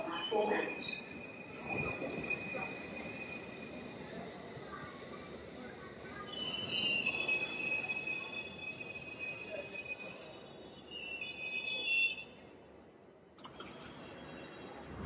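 A train runs on rails toward town, its wheels squealing in long, loud high-pitched tones over steady rumbling, with a stronger screeching stretch in the middle before it fades out near the end.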